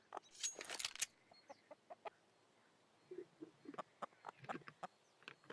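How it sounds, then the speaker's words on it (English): Chickens cluck and squawk faintly in a video game during a competitive match, scattered short clucks with a louder burst of squawking at the start, soft and spread out over quiet background. "Love the sound of chickens."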